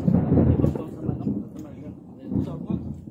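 Low thunder rumbles in rolling swells, surging at the start and again near the end, as a voice talks through part of it.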